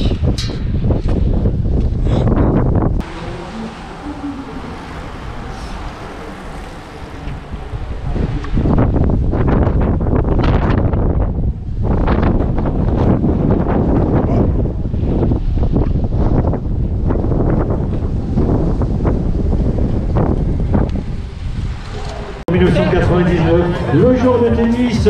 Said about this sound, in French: Dommage qu'il y ait un peu de vent, mais bon.